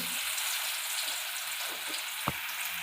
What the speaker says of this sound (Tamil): எண்ணெய் சூடாயிட்டு இப்போ வந்து இந்த மீன் நம்ம ஒன்று ஒன்றா போட்டு பொரித்து எடுத்துக்கலாம்